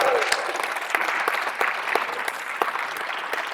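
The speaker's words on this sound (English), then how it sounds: "yes, fans of Glen, you can applaud him." An audience at a debate on Christianity applauds a speaker who has just been introduced, with steady, moderately loud clapping throughout and faint voices mixed in.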